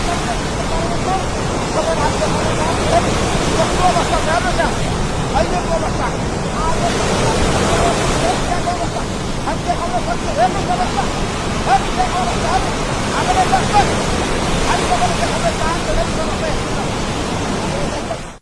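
Sea waves and strong winds during a cyclone in Italy make a loud, unbroken roar of surf and gusts that fills the whole stretch, with a voice talking beneath it.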